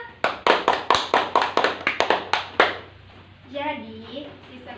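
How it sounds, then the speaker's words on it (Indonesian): A classroom full of students applauds a classmate during a biology microteaching lesson, a burst of rapid hand claps lasting about three seconds before it fades and a voice starts speaking. "Beri aplaus dulu kepada teman kita."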